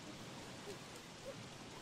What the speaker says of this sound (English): Bad part is it's raining real hard.